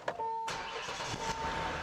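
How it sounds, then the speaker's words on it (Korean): A used late-model Hyundai Genesis sedan with 140,000 km is started. There is a brief chime, then a sharp crank as the engine catches and settles into a steady, smooth idle. A faint tone continues alongside it. "오 엔진 소리 좋네요"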